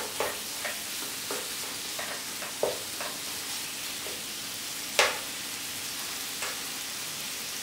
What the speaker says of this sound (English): In with our curry leaves. Stir them all in.